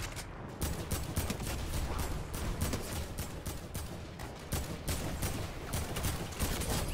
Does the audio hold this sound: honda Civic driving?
no